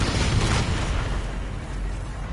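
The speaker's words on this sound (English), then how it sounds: "That's just my explosion" A heavy explosion in the shooter game Infinite Warfare erupts as a dense, loud rumbling blast that decays slowly into a sustained roar.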